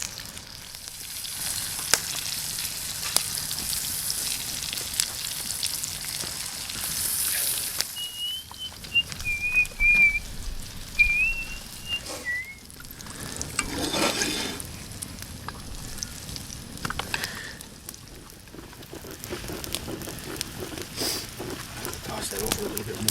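Corned beef hash fries in a pan over an outdoor campfire, a steady sizzling hiss with occasional scraping stirs and brief high chirp-like tones in the middle.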